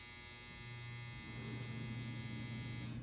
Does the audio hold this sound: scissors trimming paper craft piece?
no